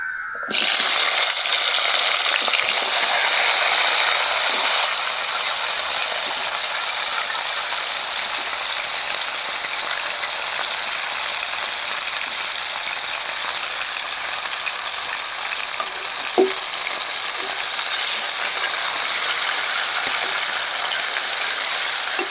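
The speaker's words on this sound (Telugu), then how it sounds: "ముక్కల్ని అయితే నూనెలో వేసేస్తున్నా" Eggplant pieces dropped into hot oil, a loud, dense crackling sizzle that starts abruptly and holds steady throughout with little change.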